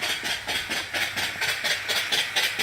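Antique vertical steam engine running on steam from an off-grid boiler at around 50–60 pounds of pressure, giving steady rhythmic chuffing hiss pulses, roughly three per second, close and continuous with no talking.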